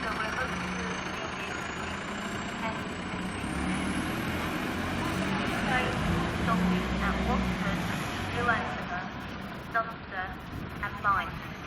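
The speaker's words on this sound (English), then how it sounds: "There's a community bus." A community bus arriving at a West Somerset Railway station, its engine rumbling steadily beneath background voices on the platform, with a rising whine as it approaches.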